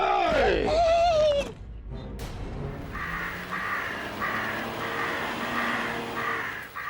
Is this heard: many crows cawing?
yes